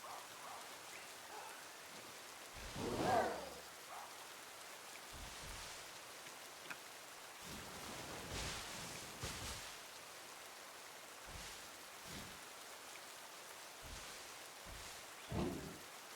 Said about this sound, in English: I just realized it's raining.